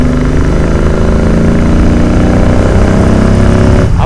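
Modified Royal Enfield Continental GT 650 twin engine pulling steadily in sixth gear, a loud, continuous close-up drone with a rising note near the end and no speech.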